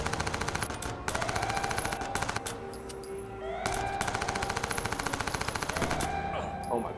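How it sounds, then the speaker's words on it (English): Automatic gunfire in the Watch Dogs video game on PS3: loud rapid bursts of shots in several long strings separated by short pauses, with faint background game sounds. "Oh my god, the gun recoil is like crazy."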